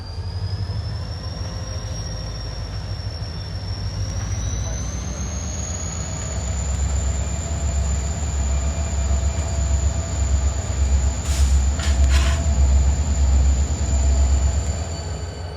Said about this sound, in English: Let's bring that train up around.